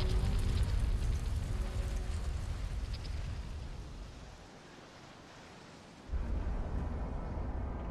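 Steady rain hisses in the Dark Souls 3 video game, a soft, even wash of noise that thins briefly and then swells back, with no voices.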